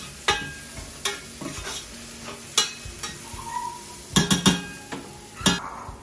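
Fish curry, slightly scorched, cooks in a pan as a utensil scrapes and stirs in irregular strokes, with sharp metallic clinks over a soft, continuous sizzle close by.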